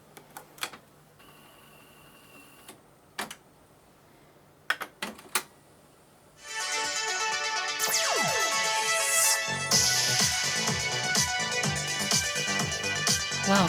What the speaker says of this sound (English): can you believe that sound is from a Chrome cassette?